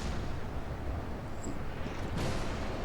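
Rear guns of the Nagato battleship firing in World of Warships, a heavy continuous low rumble that swells into a sharper broadband blast near the end.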